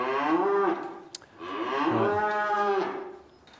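Cattle moo in a farm shed: two long, loud, close bellows with a brief pause between them.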